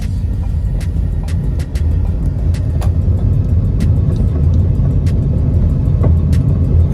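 A 2013 Ford Escape with a check engine light and an ABS light on runs with a loud, steady low rumble from the engine, marked by scattered sharp ticks and clicks, and no voice is heard.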